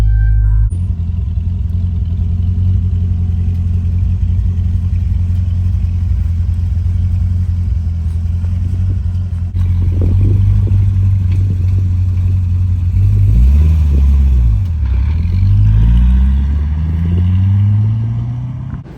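A 2022 Mustang GT with a push-button start, its engine running at a steady, loud, low idle, then revving in rising and falling sweeps near the end.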